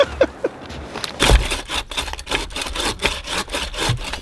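A hand saw cutting through wood at a fireside camp, with a steady back-and-forth rasp of repeated strokes that sounds loud and close.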